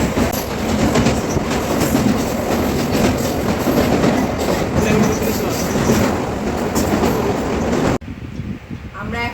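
A train rumbles loudly past at Dakshineswar station, close by with continuous rolling clatter of wheels on rails, then cuts abruptly to a quieter stretch near the end; voices blend into the din.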